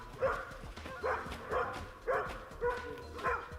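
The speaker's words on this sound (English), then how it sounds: "Sorry for the barking." A dog barks repeatedly at a moderate distance, about six sharp barks spaced roughly half a second apart, slightly muffled as if from another room.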